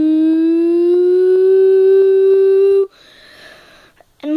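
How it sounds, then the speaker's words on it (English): A cartoon tornado-warning siren wails as a loud steady rising tone with strong harmonics for about three seconds, then cuts off abruptly, leaving a brief scuffle and a voice at the end. "there's a siren."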